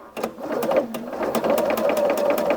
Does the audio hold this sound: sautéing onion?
no